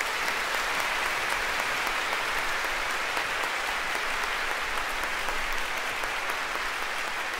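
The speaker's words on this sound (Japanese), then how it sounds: "皆様大きな拍手をお願いいたします。" An audience at a Kirby 25th anniversary event applauds loudly and steadily as the series' music and sound developers are welcomed on stage, a dense, unbroken clapping wash that lasts throughout.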